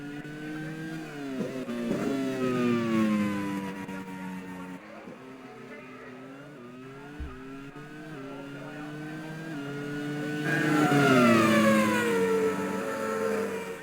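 Racing cars in the Grand Prix World Series at Anderstorp, a racing video game, drone through a long back straight with pitch sweeping up and down as engines rev, swelling louder near the end over steady mechanical roar.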